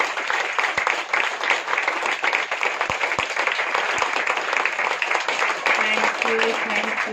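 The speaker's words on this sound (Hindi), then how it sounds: "तो एक बार दिल से जोरदार ताली दीदी के लिए।" Heartfelt applause from a spiritual gathering's audience for Didi, a dense steady wash of clapping running throughout, with a few voices and a brief tonal sound near the end.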